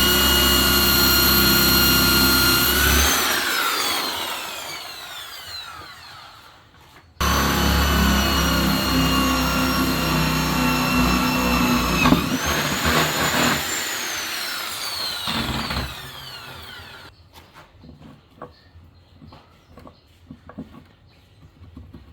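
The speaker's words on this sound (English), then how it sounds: "I got a boring bit in there" A power drill fitted with a boring bit runs loud and close while cutting into hardwood, its steady whine bogging and rising as it bites, stopping briefly, then resuming before winding down into scattered knocks.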